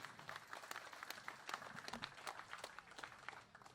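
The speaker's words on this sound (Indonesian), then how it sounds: "tepuk tangan" A crowd at an installation ceremony for a clan association board claps briefly, scattered hand claps heard faint and distant, with no talking.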